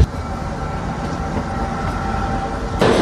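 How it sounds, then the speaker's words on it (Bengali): Shivalik Deluxe Express on the Kalka–Shimla railway rolls through pine forest, heard from inside as a loud, continuous rumbling drone of wheels and carriage, steady throughout with a sharper shift at the end and no voices. "এরকম পাইন ফরেস্টের মধ্যে দিয়ে আমরা যাচ্ছি ট্রেনের মধ্যে দিয়ে।"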